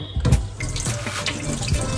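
Cold tap water runs steadily into a sink as butterflied tilapia is rinsed under it, a close, continuous splashing hiss with small spatters of water hitting the fish, no talking.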